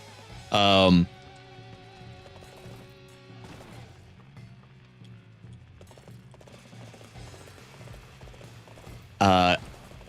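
Rhythmic horse hoof clip-clop in the game Dynasty Warriors 8 under steady talk, with two brief loud harmonic bursts near the start and end.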